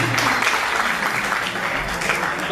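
Applause from a conference audience at an inclusive-education talk, a steady dense patter of many hands lasting a couple of seconds, with a faint voice underneath.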